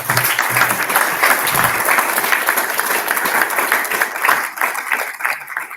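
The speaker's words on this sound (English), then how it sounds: "I'm going to encourage the audience here to applaud so you can hear them live." Live audience applause at a conference session, dense steady clapping from a room full of people, loud and sustained throughout before thinning slightly at the end.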